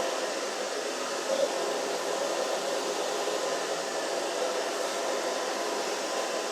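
A hair dryer blows steadily and close up throughout as hair is styled with a brush, a continuous broadband whoosh with no pauses and no talking.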